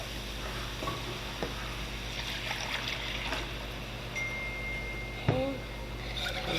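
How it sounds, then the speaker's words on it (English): Milk poured into a hot flour roux for a macaroni and cheese sauce gives a soft, steady bubbling hiss, broken by light whisk clicks and one sharper metallic knock. "we add the milk."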